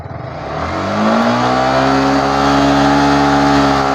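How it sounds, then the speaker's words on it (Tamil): A BS6 motorcycle engine revved up close, the pitch climbing from a low idle into a loud, steady high-rpm drone held to the end, with no speech. "இதுலேயே வண்டியை ரைஸ் பண்ணுறேன்."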